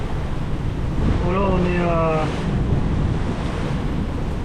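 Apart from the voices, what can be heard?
ocean waves and wind while sailing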